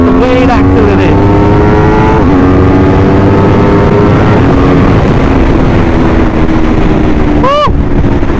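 A 2022 Aprilia RSV4 1100 Factory V4 motorcycle accelerates hard with very loud rising engine whine through several gear changes, heard under wind roar.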